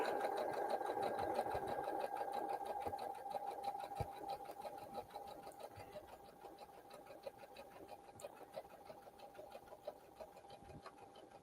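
A domestic sewing machine stitches a scallop on a craft project in a steady, continuous run, its rapid mechanical whir held close and fairly loud for the whole stretch, with no talking over it.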